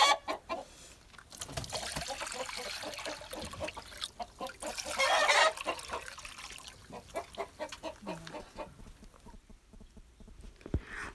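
Hens cluck and chatter steadily in a busy coop, several birds at once, with soft scratching and water trickling in the background.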